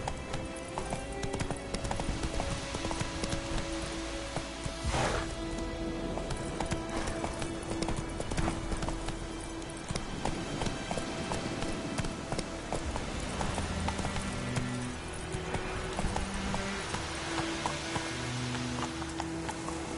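Horse hooves clip-clop steadily at a gallop in The Witcher 3: Wild Hunt, loud and continuous, with rain-like patter, occasional whinnies and in-game music underneath.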